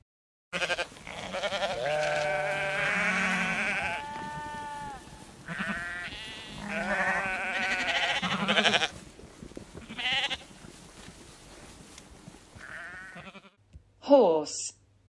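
Sheep bleat in drawn-out, wavering cries, several calls in a row with brief gaps, close and clear.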